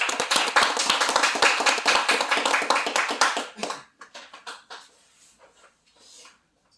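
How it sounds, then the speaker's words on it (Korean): An audience at a Korean political gathering claps to welcome a party's supreme council member. The applause is dense and loud, then thins into scattered claps and fades out. "박수로 모시겠습니다"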